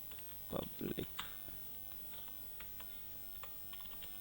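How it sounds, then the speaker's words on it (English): Keys clatter on a computer keyboard as text is typed into a paint program, a short burst of close clicks followed by sparse, faint taps under low background noise. "Suppose we are typing SR"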